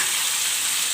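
Garlic, tomato and onion fry together for a tomato chutney, a dense, even, loud sizzle heard close up for about a second.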